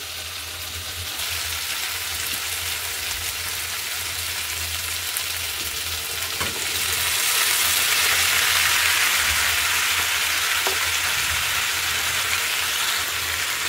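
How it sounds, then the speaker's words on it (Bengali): Steady, loud sizzling of mixed vegetables and onion stalks frying in a hot pan, a continuous hiss that swells slightly partway through, with no talking. "এবার পেঁয়াজ কলিটাও দিয়ে দেবো, তাহলে এটাও ভাজা ভাজা হয়ে যাবে।"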